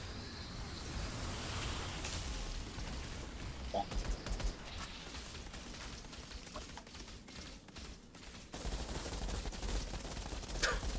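Rapid automatic pistol fire in the video game Outriders, a dense, continuous stream of shots with bursts of louder impacts and a few brief pauses, with a faint voice now and then.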